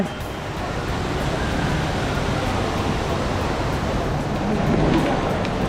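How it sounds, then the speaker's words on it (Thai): An artificial waterfall pouring from the rooftop at the ICONSIAM mall: a loud, steady, broad rushing roar of falling water fills the whole stretch without letting up. "ว้าวน้ำตกบาอ้วนน้ำตกที่มาจากบนดาดฟ้า"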